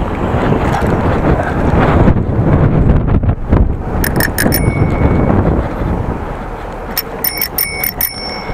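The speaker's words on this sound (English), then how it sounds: "Testing my bell." A bicycle bell rings in two quick bursts of rapid bright dings during a ride toward Zernike in Groningen, loud and close over heavy wind noise and rolling road rumble.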